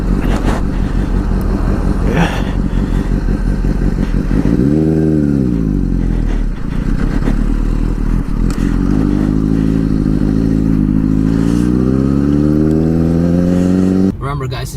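A motorcycle ridden on a public road by a first-time beginner, its engine droning loudly throughout with rising and falling pitch sweeps as it accelerates and shifts, close and continuous, with scraping clatter and wind noise.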